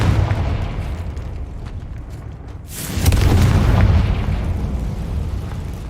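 Confringo fire spell exploding in Hogwarts Legacy, a deep rumbling boom that bursts in sharply, then swells and rolls on as a heavy, sustained roar.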